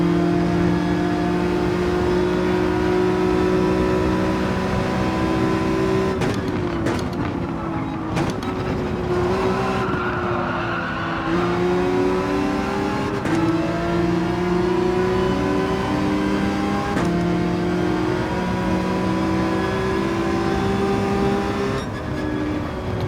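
Race car engines roar in Gran Turismo 7 at Monza, a loud sustained drone of several cars with shifting pitch as they accelerate, shift gears and trail one another, with no talk over it.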